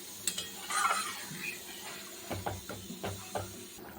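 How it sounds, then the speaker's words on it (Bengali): Water poured into a pan of cooked-down spiced curry masala, giving a soft hiss and sizzle followed by several close clinking stirs against the pan, with no talk. "এবার জল দিয়ে দেবো। একটু ঝোল ঝোল করবো।"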